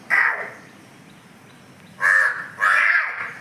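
A small child imitates a crow's caw with the voice, one call followed after a pause by two more close together, loud and near against faint rainy background noise.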